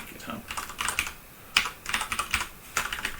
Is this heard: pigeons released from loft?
no